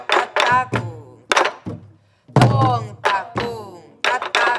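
Korean barrel drum (buk) struck in a lively traditional rhythm during a drumming lesson, with sharp close strikes in uneven groups and short pauses between phrases, and resonant low tones ringing under each hit.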